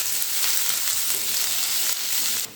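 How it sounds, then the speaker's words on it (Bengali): Chopped onion sizzles steadily in hot oil in a pan with cumin and bay leaf, a close, even crackling fry with no voices. "এবারে তেলের সঙ্গে এই পেঁয়াজটা খুব ভালো করে ভেজে নিতে হবে।"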